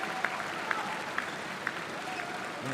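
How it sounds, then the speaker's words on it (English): A crowd at a men's volleyball Olympic qualifying match between Venezuela and Australia applauds in a steady wash of clapping with a few sharper claps, fairly distant under a commentator's voice. "That's the crowd going and"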